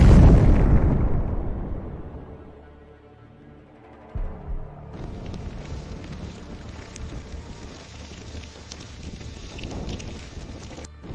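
A HIMARS missile strike hitting a BM-21 Grad rocket launcher vehicle: a loud blast that fades over a few seconds into a long rumbling, crackling roar of fire and debris, heard from a distance.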